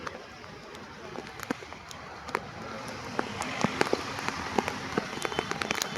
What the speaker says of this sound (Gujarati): સતત ચાલુ છે વરસાદ